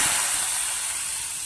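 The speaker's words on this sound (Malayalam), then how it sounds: "അപ്പം ഞാൻ ഇത് കറിയിലേക്ക് ഒഴിച്ചു കൊടുക്കാൻ പോവാണ്." Hot tempering poured into a Kerala-style buttermilk curry, a bright steady hiss and sizzle starting strong and slowly tapering over a second and a half.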